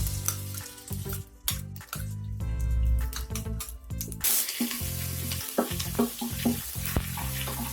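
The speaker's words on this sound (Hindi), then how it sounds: "इसमें मैंने ये लहसुन अदरक का पेस्ट डाला है" Ginger garlic paste hits hot oil with a loud sizzle and crackle, followed by intermittent stirring scrapes and pops, close and without speech.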